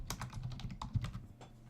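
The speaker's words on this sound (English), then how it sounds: "Stop typing." Keys clack on a computer keyboard in an irregular burst of quick taps, close and fairly quiet, with no voice over them.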